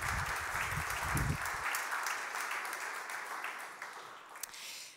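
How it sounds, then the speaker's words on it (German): Audience applause at a conference in Aachen, a dense, steady wash of many hands clapping that carries on across the whole stretch at moderate level, slightly heavier at the start and thinning a little toward the end. "Das ist Ihr Applaus."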